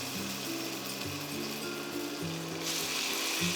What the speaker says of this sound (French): Je vais faire revenir mes jarrets.